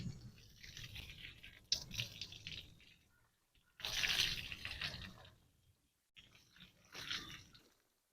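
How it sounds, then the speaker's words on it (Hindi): Pet pigeons being bathed with water, giving bursts of splashing and dripping with brief quiet gaps between them, close and moderately loud, with no talking. "लाली को सही तरह नहला दिए और मुंह वगैरह पे तो पानी नहीं मारते"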